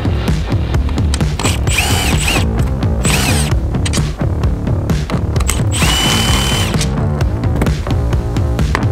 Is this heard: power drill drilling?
yes